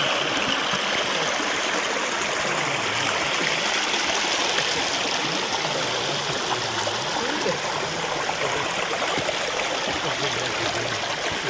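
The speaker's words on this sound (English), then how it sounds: "Yeah, a babbling brook." A babbling brook in Tideswell Dale runs in a steady, close rush of flowing water that lasts throughout, with faint voices murmuring at a distance.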